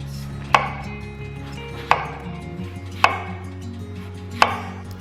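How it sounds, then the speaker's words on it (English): A knife cuts apples into quarter-inch slices on a board for Slovenian fried apples, giving four crisp, evenly spaced thunks over a low background hum, with no talking. "Cut your apples into about 1/4 inch thick slices."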